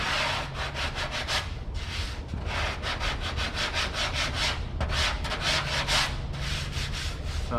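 Coarse 80-grit sandpaper rubs over a dent repair in fast back-and-forth strokes, making a close, loud, raspy scratching with a steady rhythm and almost no pauses.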